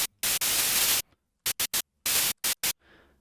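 A distorted psytrance snare synthesized in Sytrus with wave shaping, playing as harsh, noisy bursts of varying length, loud and close in an uneven rhythm.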